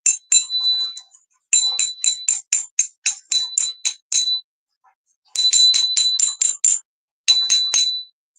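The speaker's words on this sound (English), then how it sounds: "I want to ring a bell" A small bell rings in quick clear bursts, each a string of bright dings with a sustained ringing tone, broken by short pauses, loud and close with nothing else around it.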